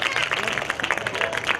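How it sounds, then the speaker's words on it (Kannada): Women in an audience clap together in a steady, dense burst of applause that lasts the whole moment, with a crowd murmur mixed underneath. "ಹೆಣ್ಮಕ್ಳು ಚಪ್ಪಾಳೆ ಹೊಡೀರಿ ಇವಾಗ"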